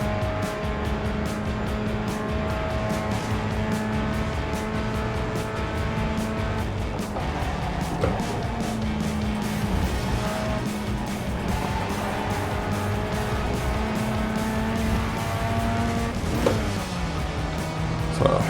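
Race cars in the iRacing sim at full throttle near the finish, a loud continuous engine drone with shifting pitch as cars pass and downshift, steady and close throughout.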